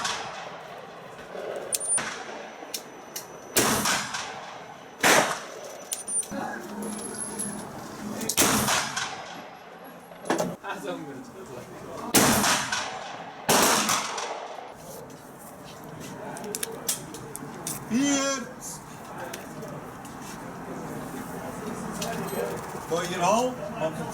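An 1837 Chasseur carbine is fired on a range, several sharp loud shots spaced irregularly across the stretch, with people talking between them.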